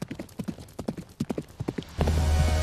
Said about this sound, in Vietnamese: Tiếng lóc cóc gió ngựa từ đâu đó nghe rõ dần.